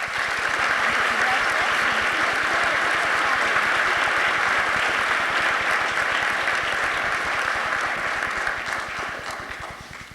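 An audience at a high school senior honors night claps loudly and continuously for about ten seconds, easing slightly toward the end.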